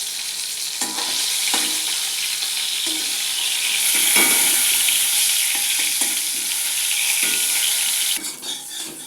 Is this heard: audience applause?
no